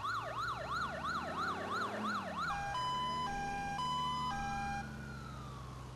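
A loud wailing fire engine siren sweeps up and down rapidly, then switches to a steady two-tone hi-lo pattern over a low engine rumble, synthetic and close, from the video game GTA IV.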